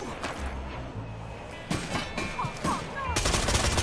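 Gunfire in Free Fire, short rapid bursts of shots in quick succession, fairly loud, under a voice talking.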